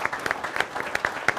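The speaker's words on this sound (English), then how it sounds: "a round of applause for" Sparse, scattered hand claps from an audience at a forum session, applauding the presenters, fairly faint and uneven throughout.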